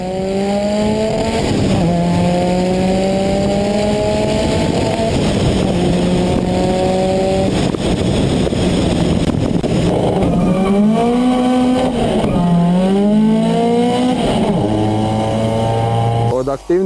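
A fast race car running on ethanol with a roughly 100-horsepower nitrous system revs hard and climbs through gears with sharp shifts and a tyre squeal, loud and close, while someone talks over it.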